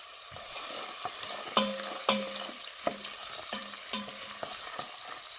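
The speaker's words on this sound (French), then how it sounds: "Je vais faire sauter l'oignon." Half a sliced onion sautés in oil with salt in a saucepan, a soft sizzle under repeated sharp scrapes and taps of a utensil stirring against the pan, several knocks spaced about half a second apart.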